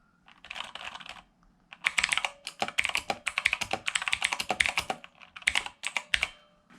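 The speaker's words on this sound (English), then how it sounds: "it's a very nice keyboard, very clicky, not so tactile" Rapid typing on a clicky Redragon mechanical keyboard with a metal backing plate: bursts of sharp, crisp key clicks, a brief pause near the start, then steady fast keystrokes, close-up with no talking.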